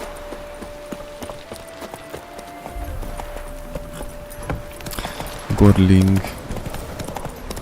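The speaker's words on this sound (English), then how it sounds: "Or maybe I could jump on a horseback." Horse hooves clip-clopping in The Witcher 3: Wild Hunt, a steady rhythmic trot at moderate loudness, with a few game sounds and a brief musical chime near the end and someone talking over it.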